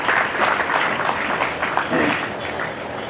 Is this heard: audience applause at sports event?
yes